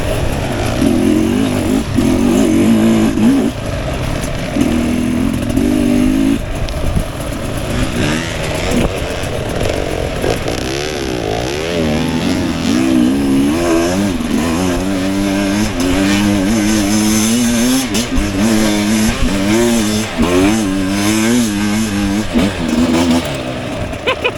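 Engine of a 2025 Sherco dirt bike revving hard on a trail, loud and close, with rising and falling pitch sweeps and sustained throttle blips throughout.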